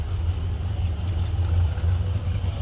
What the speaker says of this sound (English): I think we'll be fine at idle there.